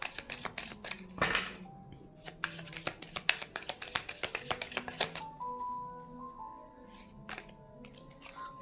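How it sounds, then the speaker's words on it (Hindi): Tarot cards drawn and shuffled by hand, a run of crisp riffling flicks and snaps close to the microphone, busy at first then sparser, with faint talk in the background. "मैं पहले कार्ड्स निकाल रही हूँ।"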